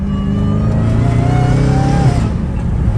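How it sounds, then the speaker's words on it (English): A Dodge Challenger Hellcat Redeye engine revs up steadily under load in third gear, its tone climbing in pitch across a few seconds, loud and close with no talking. "Third gear is like where it sounds the juiciest."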